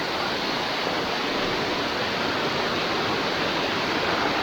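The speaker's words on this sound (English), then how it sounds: "Here we are literally in the waterfall." A steady, loud roar of falling water, a waterfall in Lydford Gorge, Devon, pouring continuously and close by with no break or change.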